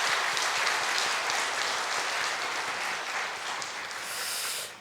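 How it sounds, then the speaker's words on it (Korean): A church congregation claps for the choir at a year-end Sunday service, a dense, sustained round of applause filling the hall that tapers slightly toward the end. "우리 찬양대를 위해서 박수로 한번 감사하겠습니다."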